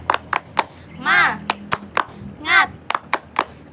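A class of children in a classroom claps together in a rhythmic spirit clap, sharp unison claps in a patterned beat broken by two short chanted shouts from the group.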